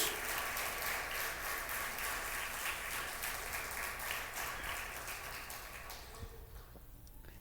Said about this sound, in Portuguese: Você pode dar um aplauso pela palavra de Deus?